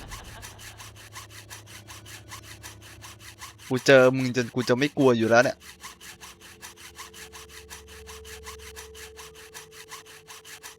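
Sawing through a chain in a Thai horror video game: a loud, rasping back-and-forth burst of several strokes lasting about two seconds mid-clip, with players talking over steady game background.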